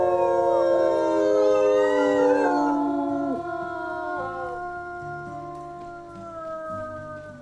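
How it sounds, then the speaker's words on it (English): A wolf howl from the WolfQuest video game, several long, clear howling voices rising and sliding in pitch over a soft low game ambience, fading into sustained tones with no talk. "We'll just howl again just to make sure."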